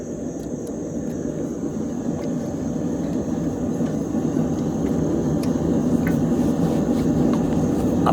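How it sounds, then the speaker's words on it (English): A blacksmith's forge roars like a jet engine, a loud, steady, broadband rush close by that swells slightly over several seconds, with faint metallic ticks above it. "I probably could have done the voice with the forge going, but sometimes it's like a jet engine going off in your ear"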